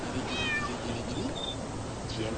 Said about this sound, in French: Alors le chat.